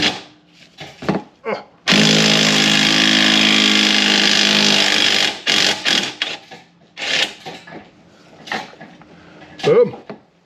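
A pneumatic impact wrench rattles loudly for about three seconds while working on the front suspension of a Mercedes CL55 AMG in a garage, between bursts of clanking tools and scattered talk.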